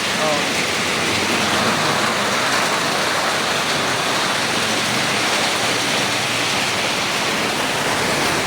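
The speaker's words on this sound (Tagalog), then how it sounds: "kalakas ng ulan." Heavy rain pours down steadily in a dense, loud roar of broadband noise throughout, with no pauses.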